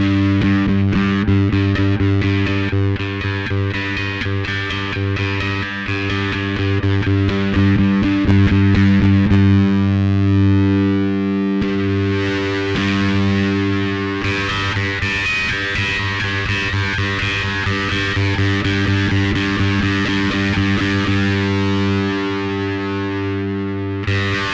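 Electric bass played through a Darkglass Microtubes X 900 distortion, heavy and gritty sustained notes with a brief change in tone midway, loud and continuous with no talking.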